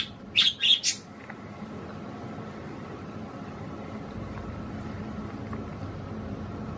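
Young budgie, about a month old, giving three quick bright chirps near the start, then only a faint steady room hum with no voices.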